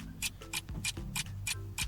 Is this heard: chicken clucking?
no